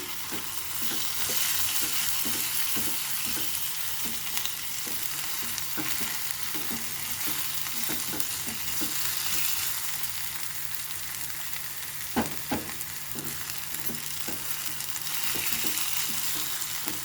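Ginger garlic paste frying in a pan for a cashew boondi drumstick masala curry, a steady dense sizzle throughout with a rhythmic series of soft stirring scrapes and taps, one sharper knock near the end.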